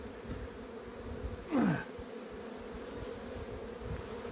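Honey bees buzz around a nuc hive: a faint, steady insect hum with one louder bee passing close by for a moment.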